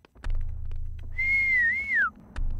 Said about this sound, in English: So I just whistled.